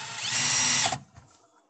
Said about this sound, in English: They're finger drills.